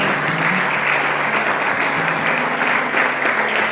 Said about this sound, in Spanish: Den un aplauso fuerte a Papá Dios